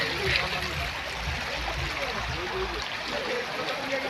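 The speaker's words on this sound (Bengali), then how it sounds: "এই যে ঝর্ণা" A waterfall pours with a steady, broad rushing wash of water that holds at an even level throughout, nearby and continuous, with a voice faintly mixed into the roar.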